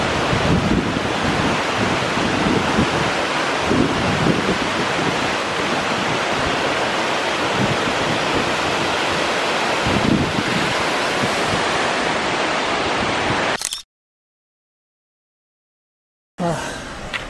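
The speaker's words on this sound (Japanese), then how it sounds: "白糸の滝っていうらしいです。" Shiraito waterfall on the Hōō Sanzan mountain trail roars as a loud, steady rushing wash close by, with gusty wind on the microphone, cutting out briefly near the end.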